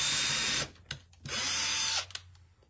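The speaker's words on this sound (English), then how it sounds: "And I have one drill with my bit in it." A power drill whirs in two short bursts, stopping and starting, with small clicks between the runs, close by.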